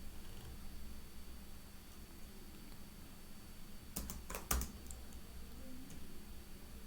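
A few quick, faint clicks of typing on a computer keyboard come in a short cluster midway through a quiet room-noise background.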